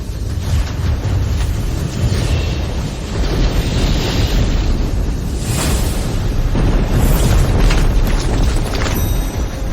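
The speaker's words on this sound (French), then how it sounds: "Comment ce vent est si fort?" Strong wind roars and buffets loudly without pause, with gusty rushing surges and rumbling noise throughout.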